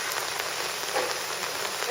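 Rain falls steadily on surfaces in Thalassery, Kerala, a dense, even hiss of drops close by with no voices, lasting the whole moment.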